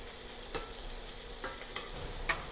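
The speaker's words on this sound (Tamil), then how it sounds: "பீன்ஸ் போட்டுட்டு கொஞ்சமாக சால்ட்டு, ஒரு 2 பிஞ்ச் சால்ட் ஆட் பண்ணிவிட்டு வதக்க ஆரம்பிக்கலாம்" Beans sautéing in oil with a couple pinches of salt, a soft steady sizzle broken by a few sharp scrapes and clinks of stirring spaced across the pan.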